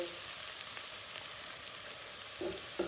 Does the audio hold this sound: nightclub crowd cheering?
no